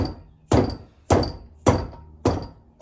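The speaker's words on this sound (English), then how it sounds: "You're just going to take the butt of your dead blow hammer, make sure it's rubber or wood." Rubber or wooden dead blow hammer butt tapping a piston wrist pin into place on a Volkswagen air compressor build, four evenly spaced, solid thunks about half a second apart, close and alone.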